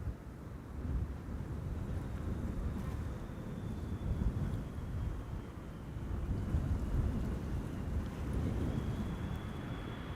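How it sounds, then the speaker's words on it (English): Wind blows hard across an open microphone at Schiphol Airport near the Polderbaan runway, a continuous low roar with gentle surges, close and fairly loud, with no speech. "Wind is picking up."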